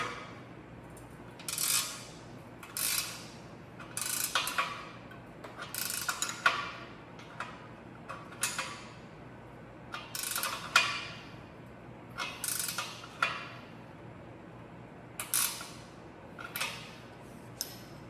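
A ratchet clicks in quick bursts while tightening the fender on a 1952 Columbia 3 Star bicycle during a rebuild. The bursts repeat about a dozen times with short pauses between them, close and fairly quiet, with no talk.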